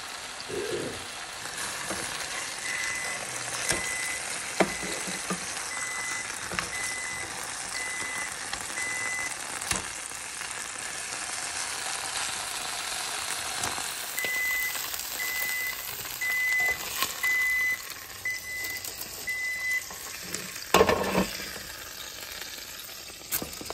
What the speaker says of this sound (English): Another familiar step, pan frying.